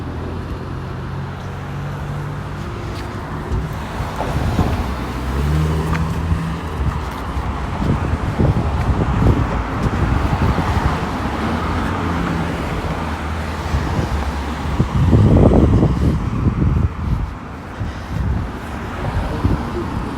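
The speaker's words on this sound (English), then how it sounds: "I think that's a bus turning onto Marlee" A city bus on the 109 route turns onto Marlee Avenue in Toronto amid winter traffic. Engine rumble swells and fades under steady road noise and wind buffeting, peaking in a louder surge near the end.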